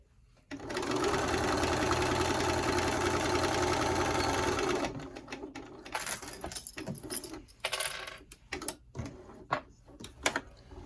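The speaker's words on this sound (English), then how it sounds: "Back stitch at the beginning and the end." Sewing machine stitching a bag seam with a 3/8 inch allowance, running steadily and close for about four seconds, then stopping and giving way to scattered clicks, rattles and handling of fabric.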